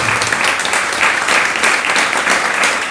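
A crowd at a Hindi religious discourse in a Pune village claps loudly and steadily from start to finish. The applause is dense and close, with no talking over it.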